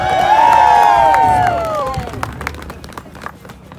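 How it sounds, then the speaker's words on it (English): An outdoor crowd at a PASNAP gathering breaks into clapping and cheering for a friend, loud whoops and shouts rising at first, then settling into scattered applause. "So a round of applause for our dear friend,"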